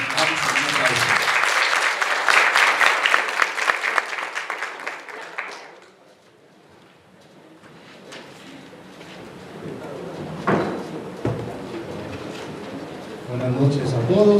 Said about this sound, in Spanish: Vamos a un aplauso.